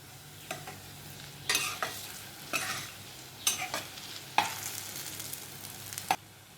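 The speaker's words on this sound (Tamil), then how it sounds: "இது நல்லா ஃப்ரை ஆகட்டும்." Green gram pakoda deep frying in hot oil: a soft, steady sizzle under repeated scraping stirs of a utensil, with several sharp clinks against the pan.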